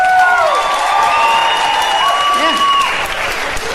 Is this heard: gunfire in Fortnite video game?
no